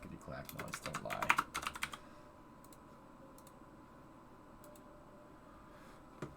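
Rapid clatter of typing on a computer keyboard, a dense burst of close clicks for about two seconds, then only a few sparse, faint taps over a quiet background hum.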